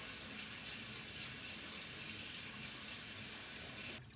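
Kitchen tap running water for straining noodles, a steady hissing splash that holds evenly at low level for about four seconds, then cuts off abruptly.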